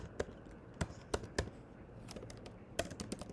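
A command is typed on a computer keyboard in sparse, crisp keystrokes, separate close clicks at irregular intervals in a quiet room.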